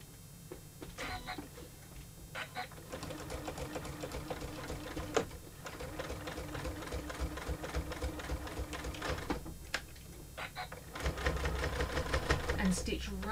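Sewing machine stitching along a seam with wash-away thread on top, a steady close mechanical whirr with rhythmic needle ticking and brief pauses, under a voice speaking.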